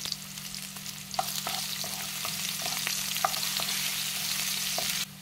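Spring onion and ginger sizzle steadily in hot oil in a pan with shrimp, with a few sharp clicks of a utensil stirring against the pan and a steady hiss throughout.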